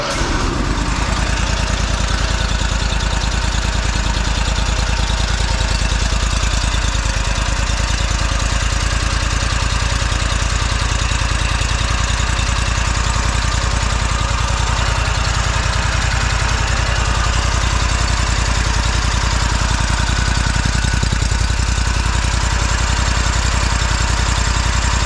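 A zero-turn mower engine idles at low speed after a spring tune-up, a loud, steady, close rumble that runs unbroken with no voices.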